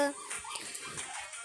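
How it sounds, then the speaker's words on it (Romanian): A pet dog whimpers for attention in soft, thin, high whines, faint and close, in a quiet room. "Scuzați-mă dacă vă deranjează sunetele, este câinele meu care vrea să le iau în pac"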